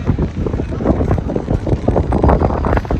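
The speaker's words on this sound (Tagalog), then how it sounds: "malakas yung hangin." Strong wind in Copenhagen, Denmark, near Tivoli, buffets the microphone with loud, rumbling low gusts throughout, no voices present.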